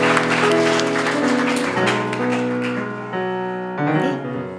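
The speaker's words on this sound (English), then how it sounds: "Let's give a big round of applause." Crowd applause, a dense crackle of clapping, rises beneath loud, sustained music and gradually thins out toward the end.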